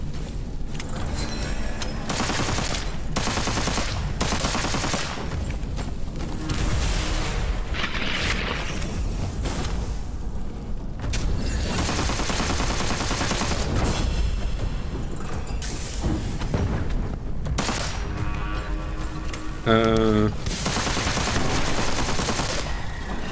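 Gunfire in the Witchfire first-person shooter game: loud bursts of shots and booming blasts in rapid clusters, separated by short lulls, with mechanical clicks between them.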